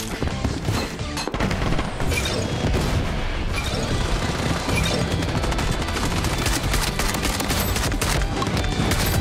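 Dense, continuous gunfire and explosions in the Blood Strike shooter game, loud booming shotgun blasts layered over rapid shots and crashes with no pauses.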